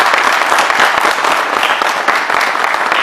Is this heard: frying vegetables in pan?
no